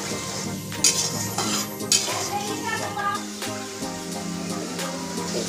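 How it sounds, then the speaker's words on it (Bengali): Spice paste is stir-fried with salt and tomato in a pan, making a soft steady sizzle. A spoon stirs and scrapes against the pan repeatedly, with occasional clinks. There is no talk. "এবার এই মশলাটা দিয়ে পরিমাণ মতো নুন আর টমেটো দিয়ে ভালো করে কষিয়ে নেব।"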